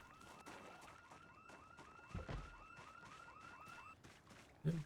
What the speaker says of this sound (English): You can hear a house alarm.